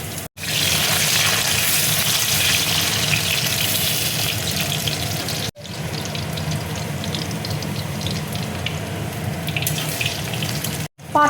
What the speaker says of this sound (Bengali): পনির ভাজার তেলে দেখো আমি শুকনো লঙ্কা ফোড়ন দিয়ে দিচ্ছি